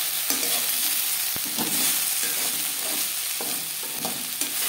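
Potatoes frying in oil over low to medium flame, a steady, loud sizzle broken by occasional soft scrapes as they are stirred in the pan.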